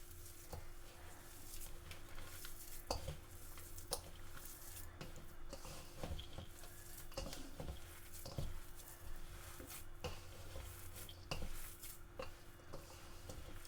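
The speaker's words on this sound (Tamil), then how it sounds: "இப்போ இப்படியே குழைப்போம்." Susiyam dough is mixed and kneaded by hand in a kitchen, making faint, continuous soft squishing and patting with scattered light clicks and no talk.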